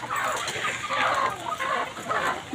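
Chickens cluck steadily and close by in a farmyard, several birds overlapping in busy bursts throughout.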